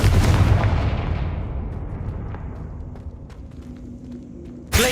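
A Confringo fire spell blasts in Hogwarts Legacy, one loud, close explosive boom that rolls off into a long fading rumble, with faint clicks trailing behind.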